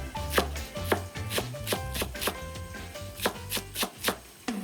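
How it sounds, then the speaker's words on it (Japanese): Leek cut lengthwise into quarters with a knife on a cutting board, a dozen or so crisp, evenly paced chops, close and clear with nothing else heard. "長ネギちょっとたっぷりめ で、あんまり細かくせず縦4等分にして"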